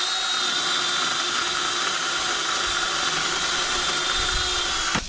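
A Kashiwa cordless chainsaw on a high-reach extension pole cuts a tree branch with a loud, continuous high-pitched motor whine that holds steady for several seconds before cutting off abruptly.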